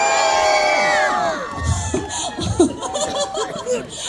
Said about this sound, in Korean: 저는 이렇게 하이톤의 함성 처음 들어봐서 깜짝 놀랐습니다